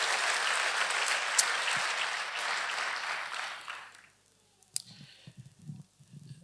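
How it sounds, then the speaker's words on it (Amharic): A church congregation claps in a steady, full burst for about four seconds, then the applause fades out, leaving a quiet room with a few faint voices and small noises. "ለዚህ ቃል አጨብጭቡ እስቲ"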